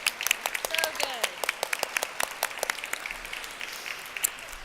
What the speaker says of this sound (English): Yes, big applause.